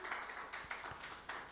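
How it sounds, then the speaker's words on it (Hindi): A church congregation clapping for God, a few scattered, fairly faint claps in an irregular rhythm rather than full applause. "एक बार जोरदार ताली अपने परमेश्वर के लिए बजाएंगे"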